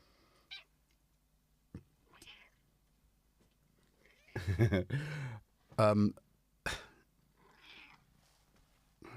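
A cat gives several short meows and chirps with soft purring between them, close by and fairly loud in bursts, separated by quiet gaps.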